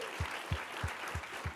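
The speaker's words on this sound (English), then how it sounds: "Clap it up for them." Audience applause at a TEDx event, a steady wash of clapping under a regular, repeating low thump that suggests rhythmic beats or stomping, roughly three per second.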